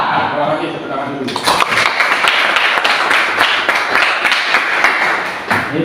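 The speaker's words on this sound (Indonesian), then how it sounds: "tepuk tangan dulu" A class of students in an Indonesian school clap their hands together at the teacher's request, a burst of dense applause that starts suddenly and carries on steadily at close range.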